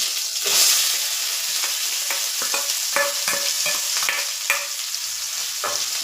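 Ginger garlic paste and two onions hitting a hot oiled pan for a dhaba-style corn curry, a loud continuous sizzle with brisk stirring scrapes and taps throughout, no voices.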